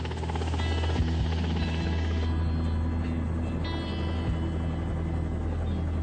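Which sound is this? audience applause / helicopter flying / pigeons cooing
helicopter flying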